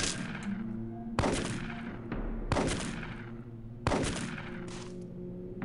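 Weapon fire in the tactical game UFO Aftershock: four separate bursts of gunshots at roughly one-second spacing, each a sharp crack with a ringing tail, loud and close.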